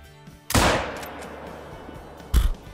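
A 30-30 lever-action rifle fires one loud, sharp shot outdoors, with a long rolling echo trailing off, followed about two seconds later by a second sharp crack or distant report.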